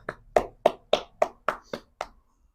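Eight crisp, evenly spaced claps ring out close by at a steady rhythm during a music review show, sounding like one person or a small group clapping rather than a full crowd.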